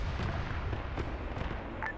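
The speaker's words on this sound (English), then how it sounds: "Oh god, that was a giant AGM." A large AGM missile exploding in a military game: a deep, rumbling blast rolls on for about two seconds, booming and low-heavy, with faint sharper pops on top.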